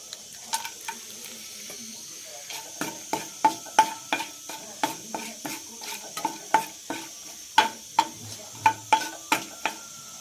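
Whole spices (bay leaf, star anise and cloves) frying in oil in a pan, with a steady sizzle under repeated sharp scrapes and taps of a stirring spoon, close and fairly loud.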